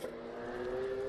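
A Porsche race car at Portimao circuit, its engine note rising steadily as it accelerates through a corner, a single clear whining tone heard alone at moderate distance.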